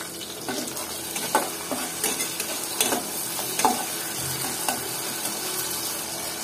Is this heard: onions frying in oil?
yes